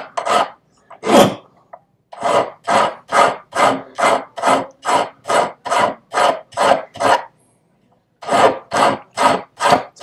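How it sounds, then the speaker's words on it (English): Hand file rasping across a Japanese seppa spacer in steady, evenly spaced strokes, close and loud, with a brief pause in the middle before the strokes resume. "as the file stroke just hits the last bit of it, and now I'm on the line"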